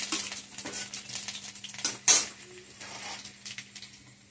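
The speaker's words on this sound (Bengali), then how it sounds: "আগে আমরা দিয়ে দিলাম এটাই রসুন, এটা ভালো করে নাড়ে নিলাম তেলটা" Garlic stirred in hot oil in a pan, with close metallic scrapes and clinks of a utensil against the pan over a faint sizzle, irregular and fairly quiet.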